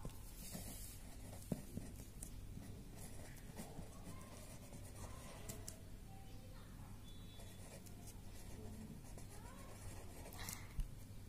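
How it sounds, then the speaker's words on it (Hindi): An answer is handwritten on paper during a Class 3 maths olympiad lesson, faint scratchy pen strokes in short bursts, close up and quiet, with soft background noise. "सो यहाँ पे मेरे पास स्पेस नहीं है तो मैं इसका आंसर यहाँ लिख रही हूँ।"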